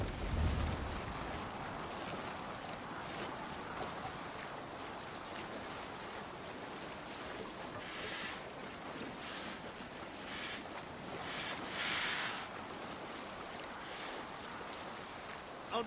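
A sailing ship moves across the sea in Assassin's Creed Valhalla, with a continuous wash of waves and water against the hull and gusting wind over the sails, steady and fairly loud throughout with no talk.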